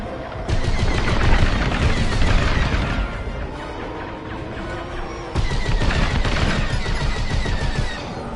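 Blaster fire and explosions in a Star Wars Squadrons space dogfight roar in dense, continuous bursts, very loud and close, with a brief lull in the middle before the barrage resumes.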